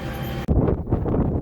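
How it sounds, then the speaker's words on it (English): Wind gusting across an open hay field of Bermuda and bluestem grass in Texas, a loud, steady rumbling buffet on the microphone that drops out briefly and then returns stronger, with no voices. "pretty windy out here"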